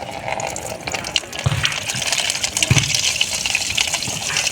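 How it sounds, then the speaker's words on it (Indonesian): Fermented homemade liquid fertilizer water being poured out for chili plants, a steady gushing splash with two brief heavier surges, close and alone. "Kita ambil airnya yang akan kita siramkan kepada tanaman cabai."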